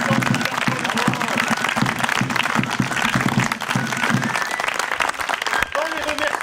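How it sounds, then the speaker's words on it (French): A theatre audience at a touring Molière show in the Haut Verdon applauds loudly and continuously, a dense wash of clapping that carries on while voices talk over it before it thins out. "donc on applaudit très fort"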